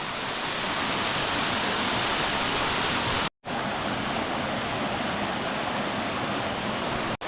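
Mibam waterfall in the Oman desert pours in a steady, loud, broadband rush of falling water, continuous and close, with a brief drop-out near the middle.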